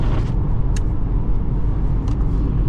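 Cabin road noise in a 2025 Ford Bronco Sport on all-terrain tires, a constant loud low rumble and tire roar on pavement with small bumps and clicks.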